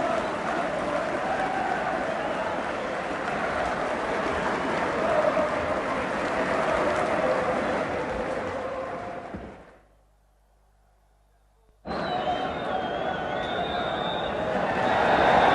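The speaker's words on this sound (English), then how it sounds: "And applause for Francis as he leaves the field" Football crowd at Nottingham Forest against Sunderland, 1980, applauding Trevor Francis off the field: a steady dense roar of clapping and crowd noise, broken by a short cut to silence before resuming loudly.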